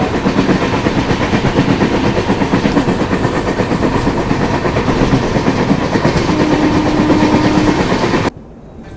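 Tirumala Express passenger train running on rails, a loud, steady rolling rumble with rhythmic clickety-clack from inside the carriage, continuing for about eight seconds before cutting to quiet.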